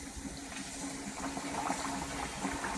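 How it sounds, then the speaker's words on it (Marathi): Mango gharge dough, rolled with poppy seeds, frying in hot oil over a medium flame, a steady close bubbling sizzle that holds evenly without pause. "हे का आता आपण तेलात सोडू."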